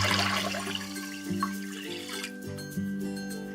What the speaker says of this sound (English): we'll add 3 quarts of water to the 1 cup of rice.